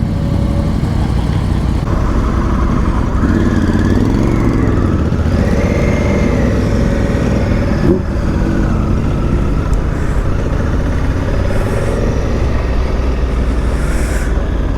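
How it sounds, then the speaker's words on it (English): A motorcycle engine, ridden around Normandy, runs loud and close with a throaty rumble, its pitch rising and falling through a couple of revs over the steady idle. "Better rev that a couple of times,"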